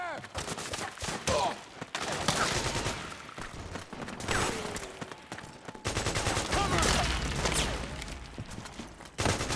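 Bursts of gunfire break out in Metal Gear Solid 4: Guns of the Patriots, scattered shots and short volleys at moderate level over game ambience, with some voices in the mix.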